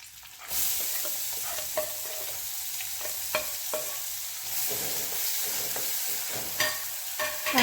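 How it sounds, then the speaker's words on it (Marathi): Finely chopped onion fries with curry leaves in a pan with a little oil, a steady close sizzle running throughout with occasional scrapes and clicks of stirring and no talking. "कांदा थोडासा लालसर होईपर्यंत भाजून घ्यायचा आहे"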